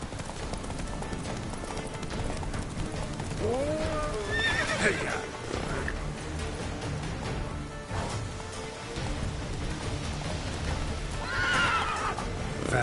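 A horse in The Witcher 3 on PS5 gallops with steady clip-clop hoofbeats and gives two loud whinnies, close by, while voices talk over the ride.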